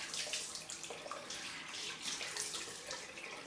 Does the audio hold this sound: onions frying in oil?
no